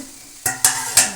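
Brinjal pieces for chutney frying in a pan, three sharp bursts of sizzling as the pieces are stirred and turned, each hiss swelling then fading over a steady low crackle.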